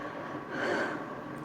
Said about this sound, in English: That's heavy breathing.